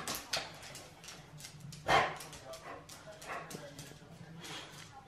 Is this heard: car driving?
no